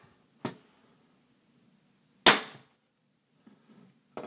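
A self-cocking pistol crossbow shoots arrows in three sharp snapping releases, each a loud crisp crack with a short ringing tail, spaced apart with quiet between and a softer rattle of handling before the last.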